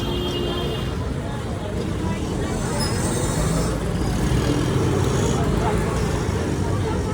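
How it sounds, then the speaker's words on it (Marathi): Heavy traffic jam on a busy road, a dense continuous rumble of cars, buses and trucks with an occasional higher whine, steady and close, with people talking over it. "इतकी ट्रॅफिक झाली इतकी ट्रॅफिक झाली गुडीला रस्ताच नाही"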